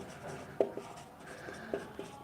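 A pen writes a math solution by hand on paper, giving faint, close scratching strokes with a few soft taps, quiet and unaccompanied by talk.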